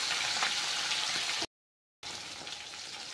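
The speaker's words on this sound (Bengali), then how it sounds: "এরপরে আমি সবকটা মাছ ভেজে নেব।" Fish pieces fry in mustard oil in a kadai with a steady, hissing sizzle, broken by a half-second gap of silence before the crackle resumes.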